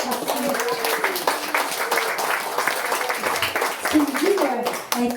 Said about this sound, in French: Alors, une grosse main d'applaudissements